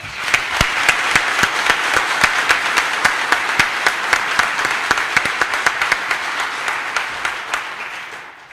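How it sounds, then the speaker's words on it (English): A graduation crowd at a call/volunteer recruit class ceremony gives a sustained round of loud, close applause, dense clapping with a few sharp individual claps standing out, tapering off at the end. "I think she deserves another round of applause."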